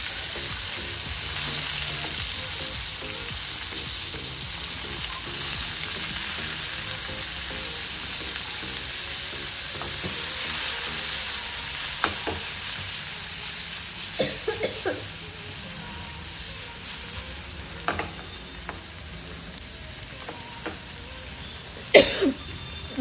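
Vertically sliced tomatoes and green chillies fry in hot oil for Maggi noodles, giving a steady, close sizzle throughout, with occasional stirring clinks and a few sharper crackles near the end.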